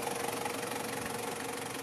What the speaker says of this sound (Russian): Моторчик работает, да?